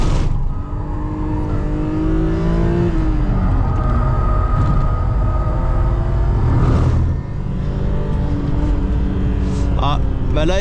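A BMW M3 E36, an older car, revs hard on a race circuit, its engine note climbing and falling through gear changes, loud and close, with a brief stumble near the end.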